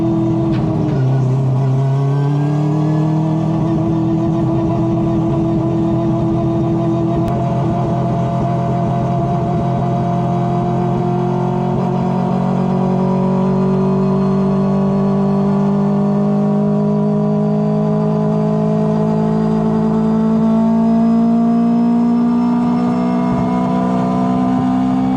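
A four-rotor rotary engine on a dyno runs a power pull, its loud, continuous drone climbing steadily in pitch for about twenty-five seconds.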